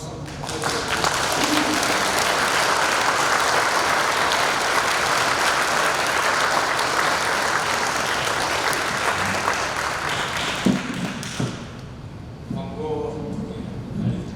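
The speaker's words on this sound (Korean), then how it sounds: "여러분들 강사 선생님께 박수 한번 부탁드립니다" An audience at a Saturday lecture applauds the lecturer with loud, sustained clapping for about eleven seconds, then the applause fades and a voice speaks over a quieter room.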